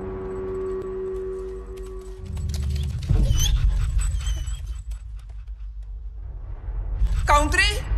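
A dog pants and whimpers in a horror film, soft breathy panting after a low rumble, ending with a sharp high whimpering whine near the end.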